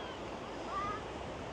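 Irish Sea surf at Blackpool makes a steady, unbroken wash of broadband noise with a slight swell in the middle, roughed up by wind buffeting the microphone; no voices come through.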